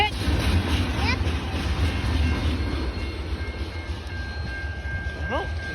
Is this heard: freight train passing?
yes